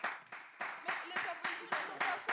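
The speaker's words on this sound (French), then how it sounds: "applaudissez pour vous-même" A studio audience clapping in a French talk show, a fairly faint, even rhythm of claps landing in unison about three or four times a second.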